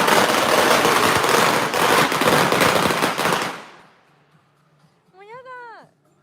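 Firecrackers exploding in rapid, dense crackling bursts in San Francisco's Chinatown, loud and continuous for several seconds before stopping abruptly, after which a voice speaks briefly.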